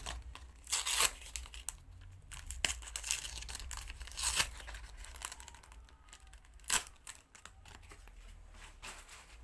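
Crinkly foil rips and rustles from tearing open a Yu-Gi-Oh booster pack, sharp close bursts spread unevenly over several seconds with no talking.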